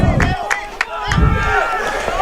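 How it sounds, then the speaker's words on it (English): Crowd at a Dartmouth rugby match roaring and shouting loudly and close, with sharp yells and thumps over a dense din of voices. "The crowd is going wild."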